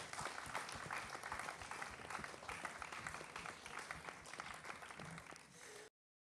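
Steady, dense applause from a studio audience at a televised singing competition sends off an eliminated contestant, filling the space evenly at a loud level before cutting out abruptly near the end.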